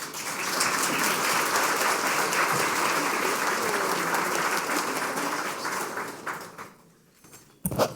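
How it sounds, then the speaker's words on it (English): An audience at the San Antonio Women's Hall of Fame gala claps in a full, sustained round of applause for about seven seconds, then thins out and fades near the end, with a brief knock at the close. "Let's give them another round of applause."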